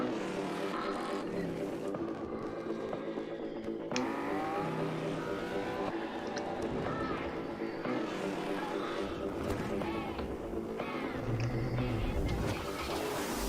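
Race cars in a Codemasters racing game roar past with engines revving and shifting, tyres squealing now and then, under a continuous mix of music and crowd-like ambience.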